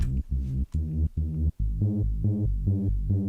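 A dark, muffled saw synth bass, low-pass filtered at about 214 Hz, plays a rhythmic run of short notes, its upper brightness rolled off, loud and close with no talking.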